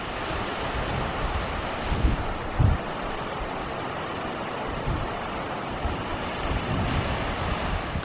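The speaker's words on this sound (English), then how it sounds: "And here's the waterfall from the other parking area. Beautiful waterfall." Rustic Falls in Yellowstone rushing over a fanned-out cliff, a steady broadband roar of falling water with wind buffeting the microphone and no talking.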